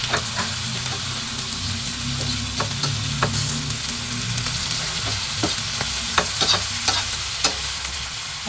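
Sinangag, Filipino fried rice, sizzling loudly in a pan while it is stirred. A constant frying hiss is broken by repeated scraping and tapping strokes from the spatula, up close, with no talk.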